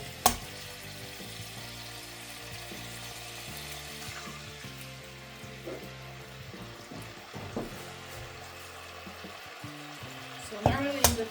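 Egg fries in a pan for shrimp fried rice, a steady close sizzle running throughout with scattered clinks and stirring bumps, plus a couple of sharper knocks near the end.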